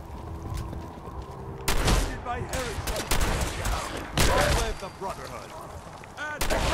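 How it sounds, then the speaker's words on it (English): Shotgun blasts boom out in Fallout 4 gameplay, several loud, sharp shots spaced a second or so apart, each with a ringing tail, over game sounds and a talking voice. "I wanted to get a shotgun blast in while I was still stealthed"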